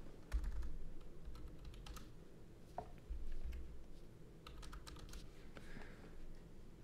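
Quick bursts of typing clatter on a laptop's computer keyboard, faint and close, with scattered keystrokes and short pauses between runs of clicks.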